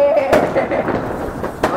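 Diwali firecrackers burst in a few sharp pops, close and loud, over ongoing talk and background chatter at a festive night celebration.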